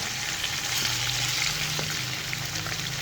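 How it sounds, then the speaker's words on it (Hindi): Chicken pieces for Afghani chicken fry in a pan, a continuous dense sizzle with a low steady hum underneath and a few faint clicks, no speech. "पीसेस हमारे दोनों साइडों से अच्छे से फ्राई हो गए हैं।"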